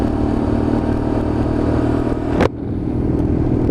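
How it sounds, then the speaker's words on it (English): Lexmoto LXR Euro 5 motorcycle engine held at high revs in top gear, a steady loud drone with wind noise that briefly dips and resumes, no talk. "just get up to the top gear and then we get the revs on"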